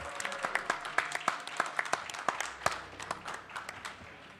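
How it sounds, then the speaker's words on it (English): An audience at a gaming convention event gives a round of applause, scattered claps that come thick at first and then thin out and fade, sounding moderately distant in a large hall. "One last round of applause for DK Adventures."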